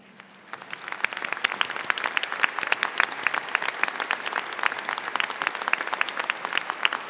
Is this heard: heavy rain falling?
no